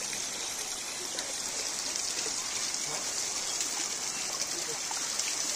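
Stream water flows steadily outdoors in a natural setting, a continuous bright rushing and trickling hiss with small splashes, close and even throughout.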